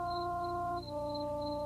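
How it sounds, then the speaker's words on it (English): A thin, reedy tone meant as a harmonica in the film Terror at Tenkiller holds steady chords for under two seconds, faint and muffled over a low hum, with a slight pitch change midway. "Wait, that noise is supposed to be a harmonica?"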